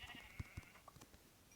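Faint sheep bleating in Minecraft with a few soft thumps and a steady background hum, quiet and brief.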